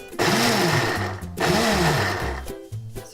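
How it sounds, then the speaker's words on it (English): A blender blitzes chickpeas in two short whirring bursts, each motor pitch rising and dipping as the blades chop, loud and close with a brief pause between them. "I'm just going to add the chickpeas into the blender just to blitz it up a little bit to give them a little bit of texture."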